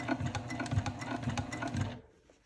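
A sewing machine stitches slowly through the bulky layers of a fabric clutch wallet, a close, steady rapid whirring with a rhythmic needle chatter that runs for about two seconds and then stops, leaving quiet.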